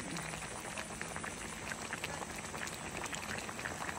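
A pot of paksiw na torsilyo, fish stew with plenty of garlic, bubbles at a steady boil, giving a dense, even crackle and popping close to the listener with no talking.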